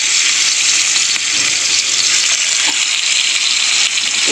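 Fish sizzles in hot oil in a nonstick saucepan, a loud, steady crackling hiss that runs without a break from start to finish.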